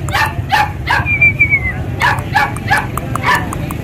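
A black female puppy about two months old barks repeatedly at a dog market in Bac Ha, sharp high yips in quick bursts with a brief whine between, close and loud over market chatter.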